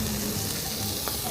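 Food fries and sizzles steadily in a pan over an outdoor fire during family picnic cooking, a continuous crackling hiss with faint stirring, close and moderately loud.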